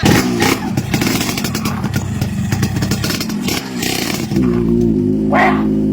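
A motorcycle engine runs loud and close, revving with a rough rattling clatter before settling into a steadier idle with a brief hiss near the end.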